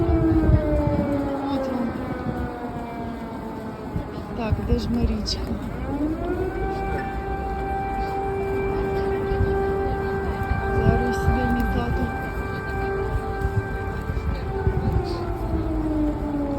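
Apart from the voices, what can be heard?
air raid siren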